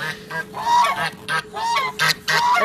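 A flock of geese honks repeatedly up close, loud nasal calls tumbling over one another in quick irregular bursts.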